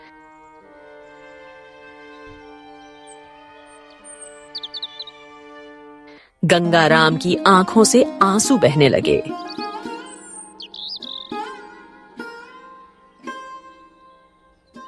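Cartoon bird chirps in a Hindi animated moral story, a few short high tweets near the start over a steady music bed, then buried under loud speech and busier music.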